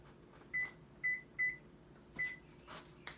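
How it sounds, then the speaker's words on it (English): A kitchen timer is set for 15 minutes, giving a series of short electronic beeps, about five in irregular succession, clear and close in an otherwise quiet kitchen. "I'm going to put a timer on for 15 minutes."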